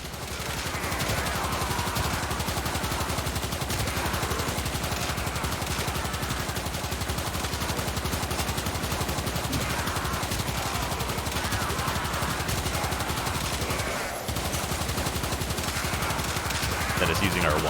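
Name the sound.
Knell Prime sniper rifle firing in Warframe video game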